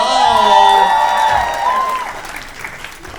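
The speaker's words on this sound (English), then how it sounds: "Give it up for Simone" A dating-show audience applauds and cheers as a contestant is welcomed, a loud, dense clapping with a high whoop at the start that fades gradually.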